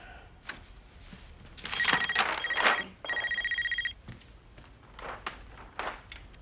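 A phone chimes with a text-message alert in a quiet room, a bright repeating electronic tone sounding in two short bursts amid light movement and thumps, with no talking.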